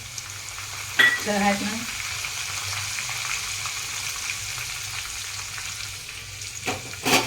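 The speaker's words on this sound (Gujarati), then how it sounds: "મીઠા લીમડાના પાન નાખીશું" Curry leaves drop into hot tempering oil with garlic, green chili, asafoetida and turmeric, giving a sudden loud crackling burst that settles into a steady sizzle. A voice briefly speaks at the end.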